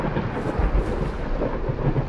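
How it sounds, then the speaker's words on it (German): Steady, dense rain in the video game Layers of Fear: Inheritance, with a low rumbling undertone, continuous and fairly loud throughout with no voices. "hier regnet's."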